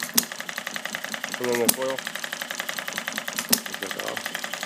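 A small home-built model hit-and-miss gasoline engine runs close by with a rapid, even mechanical clatter and periodic sharper firing pops, while someone speaks briefly over it.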